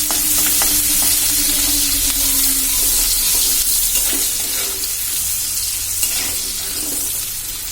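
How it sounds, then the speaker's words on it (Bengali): Onions sizzle steadily in hot oil in a pan while a ladle stirs and scrapes through them, a continuous close frying hiss with occasional clinks. "পেঁয়াজটা দিয়ে আমি হাতা দিয়ে ভালোভাবে নেড়ে চেড়ে নিচ্ছি যাতে পেঁয়াজটা ভালোভাবে ভাজা হয়ে যায়"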